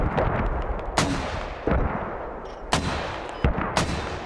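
Mortar rounds fire in a military video game, four or five sharp, loud reports spaced about a second apart, each a broadband crack that decays quickly over a low background rumble.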